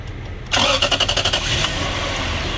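A 2005 Toyota Lexus LS430 that had a no-start fault from a bad engine ground cranks with rapid rhythmic pulses, then catches and settles into a steady idle, loud and close.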